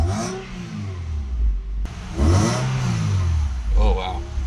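Toyota 3SGE engine in an SXE10 fitted with a BEAMS throttle lock, blipped in two or three short sharp revs with brief gaps between, close and moderately loud, with people talking over it.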